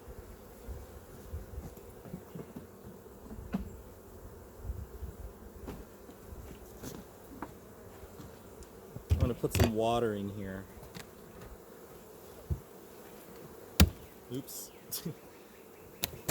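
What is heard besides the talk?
honey bees buzzing around a beehive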